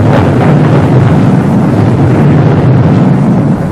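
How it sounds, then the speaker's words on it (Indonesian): Strong wind roars steadily and loudly across the microphone on a mountain hike toward the summit of Gunung Pangradin near Cigudeg, Bogor, a dense continuous rumble with no pauses. "Angin bertiup-tiup kencang mengiringi perjalanan kita menuju Puncak Pangradin"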